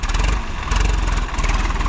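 A Swaraj 855 FE 2023 model tractor engine revving hard, a loud close throbbing diesel roar with rhythmic pulsing surges.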